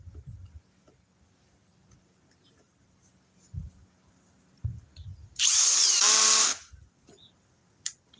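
A power drill set to clutch setting 5 drives a fastener in one loud, close whirring burst of about a second, then stops; quiet room noise and faint knocks surround it.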